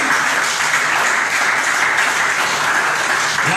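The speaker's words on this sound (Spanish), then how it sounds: "Denle un fuerte aplauso a nuestro Dios." A church congregation applauds in a loud, continuous wave of clapping from many hands, steady throughout the short stretch with no voices standing out.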